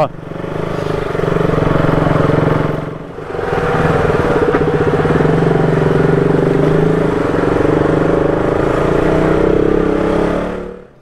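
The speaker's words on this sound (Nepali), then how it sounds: "अब मनाङको गल्ली गल्लीमा बाइक चलिरहेको छ" A motorcycle engine drones close by, rising and falling as it rides through the village alleys of Manang, Nepal, with a brief dip in the revving midway.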